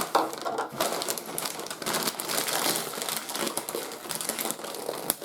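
Steady dry crinkling and crunching close up as pretzels are crushed in a bowl, a continuous crushing sound with small snaps, no talking.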